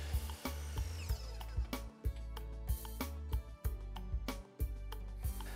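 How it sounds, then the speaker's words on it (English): Power drill boring pilot holes into southern pine for a plant stand, short bursts of close, whining motor hum broken by sharp stops and clunks, several repeated pulses in quick succession. "Drill pilot holes and install screws to hold them in place."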